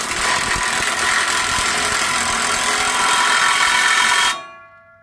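A 1-11/16 inch socket tightens the nut on a brush hog blade, making a loud, continuous whirring, rattling burst that lasts several seconds and then stops abruptly.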